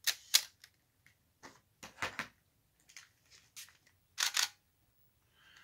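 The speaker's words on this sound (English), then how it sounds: "listen to the difference in the shutter sound here" A Nikon D7100 DSLR shutter fires in a quiet room: a scattered series of sharp, crisp mechanical clicks, some single and some in quick pairs, with short silent gaps between them and no talking.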